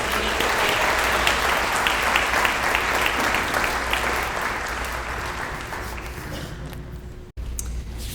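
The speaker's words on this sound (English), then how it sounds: "How about one more round of applause for them?" A crowd at a school dedication ceremony gives a round of applause, loud and dense from the outset, then gradually thinning and softening toward the end, with a brief break near the close.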